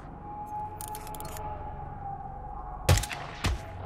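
Two sharp sniper rifle shots in the video game Hitman 2, about half a second apart and loud over a steady hum of in-game ambience.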